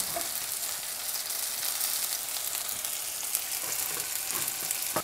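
Zucchini burger patties fry in a pan over medium heat with a steady, bright sizzle and crackle that runs continuously, with a few small pops and taps mixed in.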